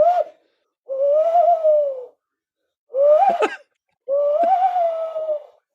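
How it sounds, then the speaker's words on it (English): Two tawny owls call back and forth in four hoots, some with wavering or broken pitch, each roughly a second long with gaps between, loud and close. "that's two tawny owls there, and that's the sound that most people associate with the owl"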